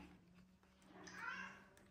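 A pet cat indoors waiting to be let onto the terrace lets out a single soft, drawn-out meow over a low steady room hum.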